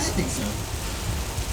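Simulated rain pours down from behind the set on a Universal Studios nighttime studio tour, a dense, loud wash of falling water, with people talking and reacting over it throughout.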